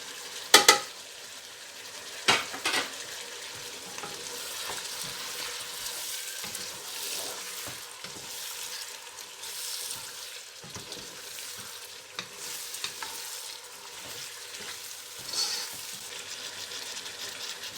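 Chopped onions and spices sizzle in a hot pan for a lobia gosht curry, a continuous frying crackle broken by sharp clinks and scrapes of a spoon stirring against the metal.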